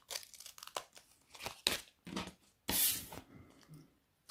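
Paper and a handmade sticker being cut by hand, with a run of crisp crinkling snips and rustles, close up and irregular, ending in a longer scraping cut with no talking.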